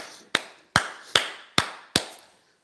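A congregation at a church service clapping in acclamation to God: five distinct, sharp claps spaced roughly half a second apart, each with a short reverberant tail, heard alone and fairly loud.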